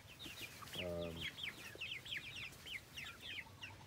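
Quiet clucking of chickens and a rooster with chattering bird calls, one drawn-out harmonic call standing out near the start, at a piggery farm in the Philippines.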